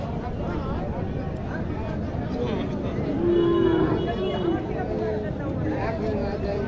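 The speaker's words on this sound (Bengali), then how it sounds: "এইখানে একটি গরু দেখতেছি" Cattle at a livestock market, including Sahiwal and local crossbred bulls, low a loud drawn-out moo amid a constant babble of crowd chatter and nearby voices.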